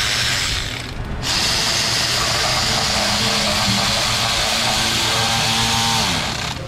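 A torque wrench tightens intake bolts on a 2005 Ford Expedition 5.4 three-valve engine, making a close, steady mechanical ratcheting that runs for several seconds with no talk.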